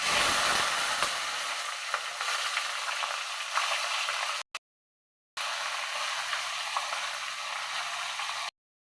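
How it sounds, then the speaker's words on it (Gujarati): Stuffed Kathiyawadi chillies temper in hot oil with mustard seeds, cumin and asafoetida, producing a continuous close sizzle with light stirring. The sound cuts out briefly near the end, then resumes. "અને મરચાં વઘારી દેશું"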